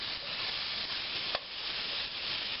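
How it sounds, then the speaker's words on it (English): Sausage sizzling in a pot as it is broken up with a utensil, a steady close frying hiss with a faint scrape partway through. "it starts cooking, break the sausage up"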